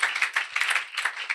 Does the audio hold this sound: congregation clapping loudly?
yes